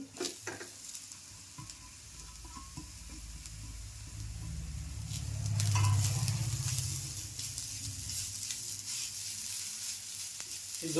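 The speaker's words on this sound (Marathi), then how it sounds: "कांदा मस्त असा लाल झाला आहे आता मी खोबरं पण टाकते" Grated coconut goes into onions frying red in a pan, setting off a steady sizzle and hiss that swells midway, with occasional stirring scrapes and no speech.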